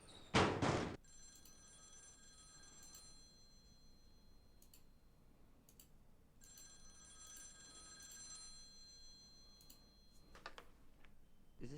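A phone in The X-Files video game rings in repeated electronic trills separated by short gaps, each burst clear and fairly quiet over a hushed background, with a sharp knock-like sound near the start.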